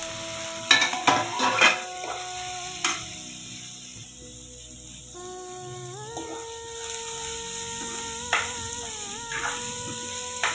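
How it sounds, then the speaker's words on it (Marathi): Moth beans frying in oil with turmeric in a pan, with irregular scraping and stirring clicks over a low sizzle, close up, and a steady tonal hum running beneath. "हळद छान फ्राय झाल्यानंतर त्यामध्ये मटकी टाकून घ्यायची"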